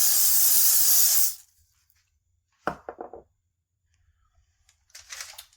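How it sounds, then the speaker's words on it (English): Olive oil cooking spray misted onto parchment paper in a kitchen: one steady, loud aerosol hiss lasting about a second, then crinkling paper handling and a fainter second spray burst near the end. "I'm going to spray it with some olive oil cooking spray just to help make nothing stick"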